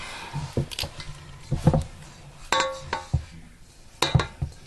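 A dough hook is worked loose and lifted off a stand mixer after mixing jalapeño cheese bread dough, a scattered series of light metallic clinks and taps, close and fairly quiet.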